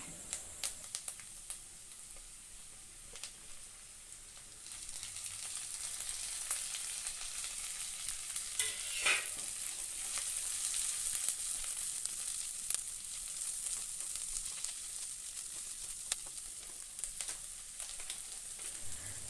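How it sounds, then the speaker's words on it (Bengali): Chopped onion, tomato, green chilli and bay leaf fry in a pan for an egg bhuna, giving a steady close sizzle with occasional stirring scrapes, no talk. "তো পেঁয়াজ টমেটো কিছুক্ষণ ভেজে নেওয়ার পর"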